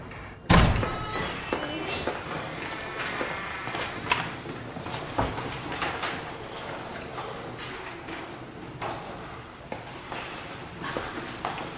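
An office door gives one heavy, close thump near the start, followed by quieter knocks and handling sounds in the room.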